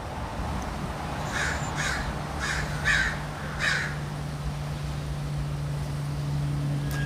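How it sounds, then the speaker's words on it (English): Crows caw outdoors in a quick run of about five harsh calls at moderate distance, with a steady low hum running beneath throughout. "There's crows around here."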